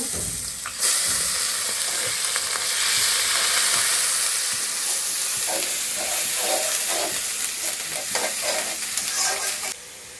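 Onion paste with green chillies in hot oil in a pan, frying and sizzling steadily and loudly throughout, with stirring scrapes and a bright hiss that cuts off just before the end.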